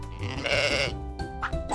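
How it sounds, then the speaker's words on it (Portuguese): A sheep on a farm bleats in one loud, close, wavering call that swells and then trails off, followed by a shorter second bleat, with no talking over it. "É uma ovelha."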